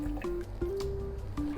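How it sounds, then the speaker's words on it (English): Pasta water being poured into a mixie blender jar already holding vegetables, a wet gurgling, squishy trickle with short bursts and tonal glugs, close and fairly loud, with no talk. "I'll take some of the pasta water and I'll just pour that in."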